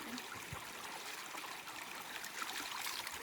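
A creek at Bandelier National Monument flows steadily, giving a soft, continuous rush of water that stays faint and even throughout, with no voices.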